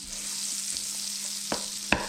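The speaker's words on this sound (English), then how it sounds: "Sizzle and fry." Butter sizzles steadily in a hot pan, a bright constant crackle, with a couple of sharp clinks from a utensil toward the end.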